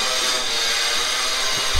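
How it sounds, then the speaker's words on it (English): Steady, loud abrasive whirring of a power sander running continuously on a bedroom wall in a house under construction, with a faint low thump near the end. "And his partner, Mr. Rafi, is now sanding in bedroom number three."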